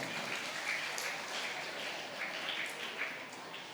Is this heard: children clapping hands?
yes